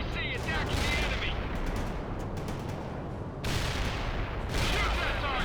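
Gunfire in the World in Conflict video game: sustained bursts of rapid automatic fire and explosions, dense and loud, with a brief lull midway before the shooting resumes heavily.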